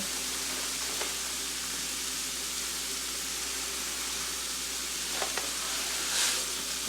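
A boxed rice mix toasting in hot oil in a pan for a broccoli cheese chicken and rice casserole, steady close sizzling hiss with a couple of faint stirring clicks.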